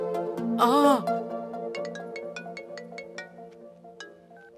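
A phone ringtone rings in a Hindi-dubbed movie scene, a bright repeating melody of short chiming tones with a brief warbling burst near the start, moderately loud and close.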